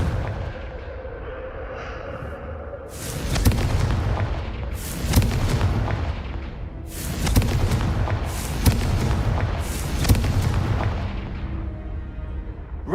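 A Confringo spell explodes in Hogwarts Legacy. A series of heavy, booming blasts comes in bursts, about five loud impacts spaced a second or two apart, each with a rumbling tail, following a quieter stretch of game ambience.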